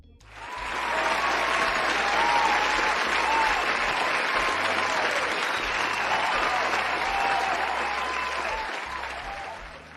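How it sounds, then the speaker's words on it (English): A big round of applause from an audience at the 100th Prestige Hour show: dense, steady clapping swells in after a second, stays loud and full with a few whoops mixed in, then eases off near the end. "I want you to give yourself a big round of applause right about."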